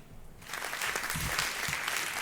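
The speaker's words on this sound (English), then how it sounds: "clap for Darren Jacobs" Applause breaks out for podcast guest Darren Jacobs after a brief quiet start, a dense steady wash of clapping that holds to the end.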